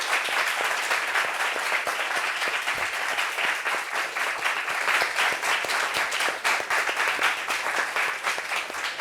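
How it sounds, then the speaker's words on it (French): Loud, sustained applause from a studio audience welcoming a guest onto a French-language talk show set, dense clapping throughout with no break. "Applaudissements pour lui, s'il vous plaît."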